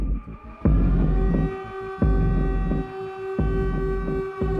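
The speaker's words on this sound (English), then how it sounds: "the sound of the evacuation siren going off in the town" A loud, sustained town evacuation siren during the Mount St. Helens eruption wails continuously with a steady droning tone, overlaid by repeated heavy clunks at regular intervals.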